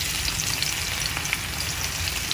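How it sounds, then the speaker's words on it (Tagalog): Onion sautés in a hot pan for a shrimp and broccoli stir fry, giving a steady, close, loud sizzle and crackle that runs without a break and has no talk over it. "Gisa lang natin."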